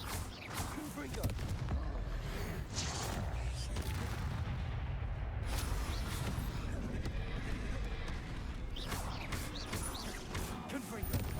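Confringo fire spell blasts in Hogwarts Legacy, repeated booming impacts and crashes amid a busy battle mix with game music and combat noise.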